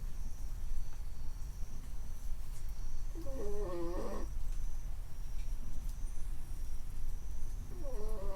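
A dog asleep in a reflexology salon snores in steady rasping breaths close by, with a couple of short whiny tones rising over the hoarse rhythm.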